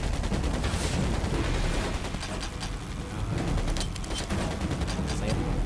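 Continuous gunfire and explosions from an Attack on Pearl Harbor air combat game, with dense overlapping bursts that form a loud, steady barrage throughout.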